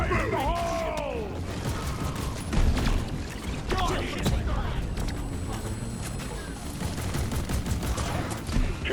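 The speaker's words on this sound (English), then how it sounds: "One sentry gun ready to go. Fire in the hole!" In the video game Weeping Gods, a sentry gun fires in bursts among clattering mechanical noises and other game effects, with a voice talking over much of the action.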